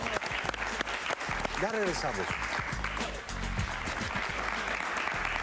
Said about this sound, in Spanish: Gustavito, un aplauso para ti.